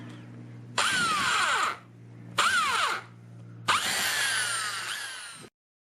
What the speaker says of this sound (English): Then carefully drill a larger hole through the baseboard